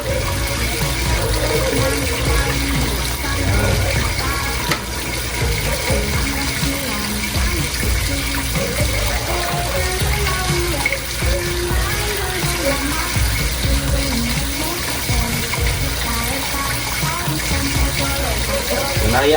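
A tap runs continuously to flush rust out of the water in an outdoor hut kitchen, a steady loud gushing rush that never lets up, with faint background noise.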